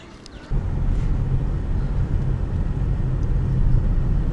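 A car on the road near Akhangaran, Uzbekistan, its engine and road noise rising into a steady low rumble after a brief quieter start, continuous and close with no talk.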